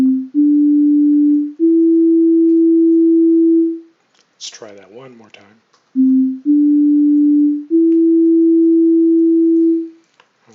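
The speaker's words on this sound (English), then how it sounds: "Typical sine wave going to my oscillator at the given note frequency" Synthesized sine wave notes from an oscillator, three pure steady tones rising in steps and loud, then a brief spoken line, then the same three-note sequence played again.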